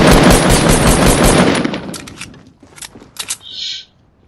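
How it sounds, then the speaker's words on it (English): Rapid automatic gunfire from a squad-based shooter video game, loud and sustained at first, then breaking into a few separate bursts before a short high electronic tone. "Yo, Javi, should I just shoot it down?"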